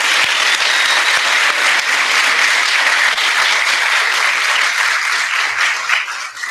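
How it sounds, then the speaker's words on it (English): A graduation audience gives a sustained round of applause, a dense steady patter of many hands clapping at close range, holding level until a slight taper at the end. "join me in a round of applause for these individuals"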